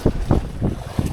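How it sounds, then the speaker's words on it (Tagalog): Strong wind buffets a seaside fishing spot at Nasugbu, Batangas, coming in repeated roaring gusts that batter the microphone in uneven pulses. "Kahit mahangin."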